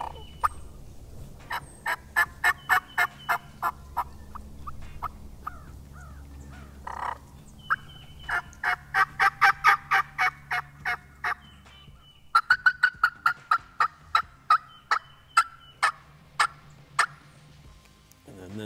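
A turkey mouth call with a 2.5-reed ghost cut and an extra side cut being blown, producing repeated bursts of raspy yelps and clucks in runs, close and clear with quiet gaps between sequences.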